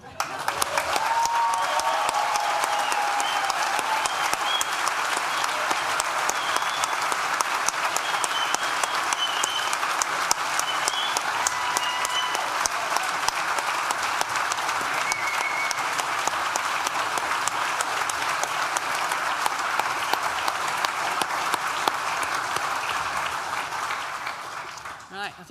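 Loud, sustained applause fills a graduation ceremony hall for Nottingham Business School graduates, dense continuous clapping from a large crowd with scattered cheers, holding steady for about 25 seconds before easing slightly at the end.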